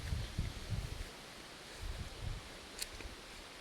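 Gusts of wind buffet the microphone in low bursts, rising and falling outdoors among wildflowers in Poland, with a faint rustle in between.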